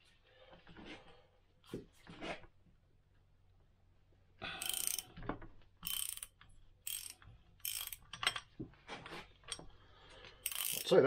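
A ratchet loosens a bearing cap on a 1973 Triumph Stag differential, with several bursts of close, loud clicking strokes separated by pauses and softer handling noises.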